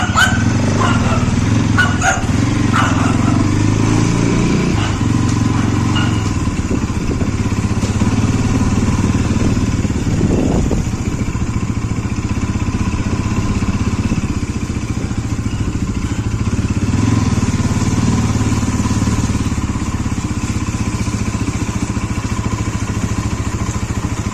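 A Bajaj Pulsar NS200 motorcycle rides along with a loud, continuous engine drone and road rumble. Early on there are rapid clattering bursts, and the engine note swells briefly around the middle.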